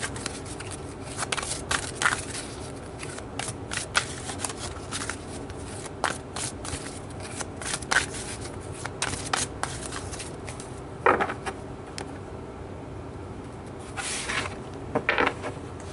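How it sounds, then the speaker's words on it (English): Tarot cards are shuffled and handled with repeated soft riffles and flicks, interrupted by light taps and small thuds. The sound is close and moderately quiet over a steady low room hum. "let's pull a few more cards just to get a bit more information about"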